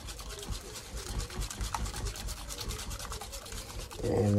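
Eggs are beaten one at a time into banana bread batter with a whisk, giving a steady, rapid scraping rhythm against the bowl for several seconds, ending with a brief louder thud.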